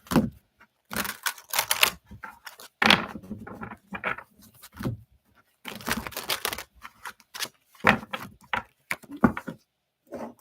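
Tarot cards shuffled by hand, quick papery riffles and taps in irregular bursts close to the mic, with gaps of silence between them.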